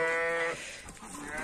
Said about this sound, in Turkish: Bir tane kuzu var arasında, bu burada duruyor.